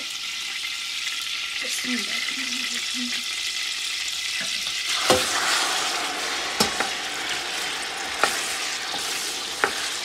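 Steady, broadband sizzle of chicken frying in hot oil, with occasional sharp pops and spatters over the continuous hiss.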